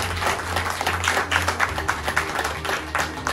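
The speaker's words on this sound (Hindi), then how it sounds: "जोरदार ताली करें" An audience at a motivational business seminar claps loudly and steadily, a dense crackle of many hands with a low hum underneath and no talking.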